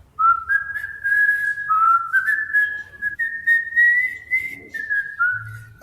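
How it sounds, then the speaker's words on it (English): One person whistles a wavering melody alone, close and clear, with short breaths between phrases. "I could whistle."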